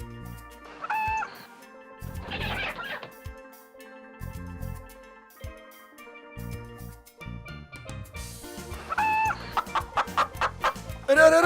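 A hen clucks in short bursts with pauses between, close by, building to a rapid run of agitated clucks near the end.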